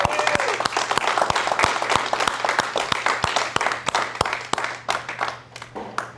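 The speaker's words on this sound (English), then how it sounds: "Let's get a round of applause for everybody." Applause from a small live-event audience, distinct close hand claps over a steady crowd wash, tapering toward the end with a low hum underneath.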